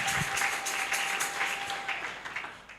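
A church congregation at a French-language sermon applauds, with continuous dense clapping at a steady level throughout.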